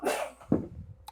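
A single abrupt human sneeze indoors in a home kitchen, loud and close, starting with a sharp breathy intake and ending in a short burst.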